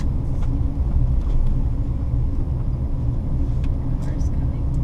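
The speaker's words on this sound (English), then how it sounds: "Car's coming." A car rumbles along a precarious mountain switchback road in the Faroe Islands, a low, steady engine and road drone that stays fairly close and continuous, with a person speaking over it.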